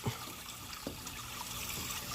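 Vigoro all-purpose garden soil is poured into a sifter, giving a soft, quiet, trickling rush with a few small thuds as clumps land.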